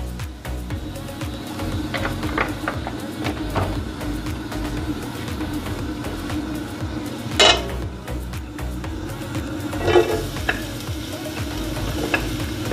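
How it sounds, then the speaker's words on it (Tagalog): Pork sautéing in oil in a pan: a steady sizzle runs throughout, broken by sharp clinks and scrapes of a utensil against the pan, two of them notably louder. "We will be sauteing."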